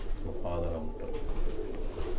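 A pigeon held in the hand coos softly and close, its low throaty calls mixed with someone talking over it.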